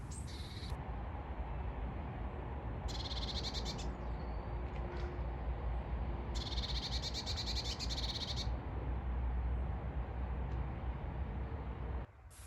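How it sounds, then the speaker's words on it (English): An agitated garden bird gives two harsh, buzzy bursts of calling that stand out over a constant, loud roar of nearby traffic, with a few fainter chirps in between. "above the sound of traffic I could hear an angry bird"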